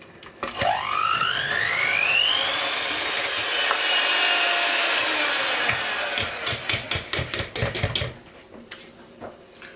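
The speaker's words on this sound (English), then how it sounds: "we're just going to whisk to soft peaks" Cream with sugar and vanilla being whisked toward soft peaks: a motor whine climbs in pitch and holds steady, then breaks into rapid, rhythmic rattling taps before stopping.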